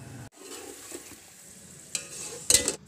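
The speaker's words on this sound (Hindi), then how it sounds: "ज़रूरत के मुताबिक डालना है और अच्छी तरह इसको भून लेना है।" Pulao masala being stirred and fried in a pot for chicken pulao, soft sizzling under scraping stir strokes, with a louder clatter of the spoon against the pot near the end.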